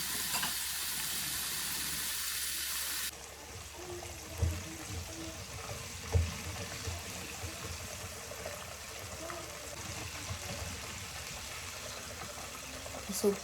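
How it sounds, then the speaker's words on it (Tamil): Buttermilk-marinated chicken popcorn pieces deep frying in hot oil, a steady close sizzle and bubbling with a few brief clinks, after a louder opening burst of hiss. "இப்போ எல்லாத்தையும் போட்டு பொரிச்செடுப்போம்."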